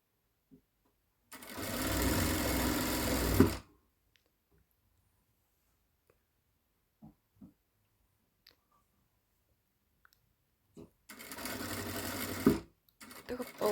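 A sewing machine stitching a fabric hair elastic runs in two loud bursts of rapid whirring, about two seconds each, separated by a quiet stretch with small clicks and handling sounds.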